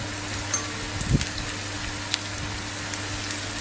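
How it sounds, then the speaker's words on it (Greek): Stirring a flour mixture in a hot pan, with a soft steady sizzle and a few light scraping taps of the spoon, faint and close. "Θα το ανακατέψω να πάει παντού."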